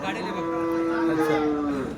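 A Holstein Friesian (HF) cow at a cattle market in Dhule moos in one long, drawn-out low call that holds steady for about two seconds, close and fairly loud.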